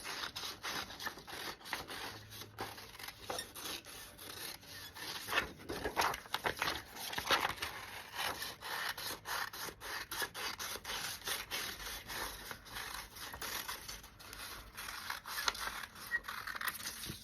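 Scissors cut out paper in a quiet room, giving soft, faint, irregular snips and rustling paper crinkles that recur throughout, with no voices.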